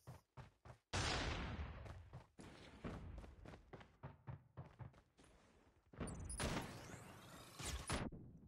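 Gunfire in the shooter game Call of Duty: Mobile, a rapid series of loud, sharp gunshot cracks and thuds in close succession, with a burst of further shots near the end.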